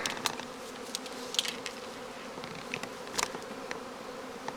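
Honeybee swarm humming in a tree after swarming, a steady faint drone with scattered brief buzzes of individual bees flying close past, no voices.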